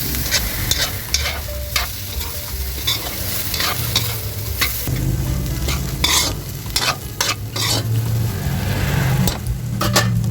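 Sweet potatoes are stirred into sautéed bean sprouts in a pan, a loud steady sizzle punctuated by repeated clanks and scrapes of a utensil against the metal, with no talking.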